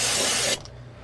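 Fluid Film rust protection sprayed heavily onto a car's underside in a salty-road area, a loud steady aerosol hiss that cuts off abruptly halfway through, leaving quiet room tone.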